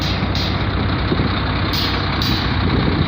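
A truck reverses with steady beeping and hisses of air brakes over a continuous engine rumble, close by and fairly loud, with no talking.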